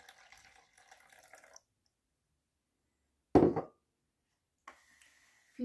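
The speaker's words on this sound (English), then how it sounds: "I add 270 grams of water. Water goes in first." Water is poured into sourdough discard in a short, close splashing burst. It follows a stretch of faint handling noise and is followed by a few quieter clinks.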